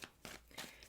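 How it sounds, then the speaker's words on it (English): A deck of tarot cards is shuffled by hand close up, giving three quick riffling bursts in under a second. "let's get a couple good shuffles in there"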